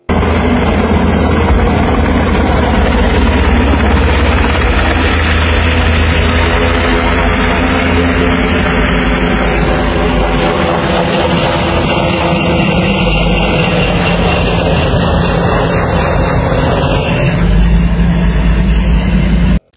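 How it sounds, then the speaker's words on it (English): A helicopter's rotor and engine noise fills the air, loud and continuous, a dense steady roar with a rhythmic beating undertone that persists throughout before cutting off abruptly. "That helicopter went there to disrupt the volunteers and the supplies they were working on"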